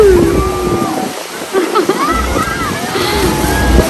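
Niagara Falls in Ontario, Canada, gives a constant broadband rush of heavy falling water close by, with excited voices over it.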